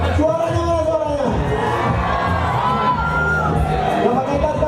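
An audience at a promotional event in Aceh, Indonesia, cheers and shouts loudly in a sustained roar, with children's voices and whoops mixed in, close and continuous.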